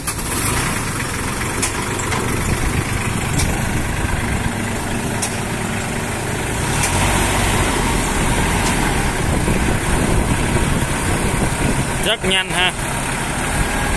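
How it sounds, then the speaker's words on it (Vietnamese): A Shibaura 32 hp tractor loader's diesel engine runs steadily nearby for the whole stretch while the bucket is raised and lowered. A brief clatter comes near the end, and a voice speaks briefly over it. "nổ máy thử lên gầu xuống gầu đồ xem thử em"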